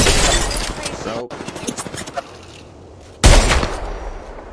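Video game gunfire, with dense bursts of rapid shots crackling close and loud, a lull, then another heavy volley near the end, mixed with a player talking.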